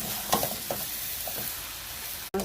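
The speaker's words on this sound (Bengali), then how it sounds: "আবারও সব মশলা দেওয়ার পরে আবারও একটু মশলাটাকে ভালো করে নাড়াচাড়া করে নেব।" Ground cumin and coriander stirred through meat in a hot frying pan, a continuous close sizzle broken by a few soft scrapes and clacks of the spatula, with no voices.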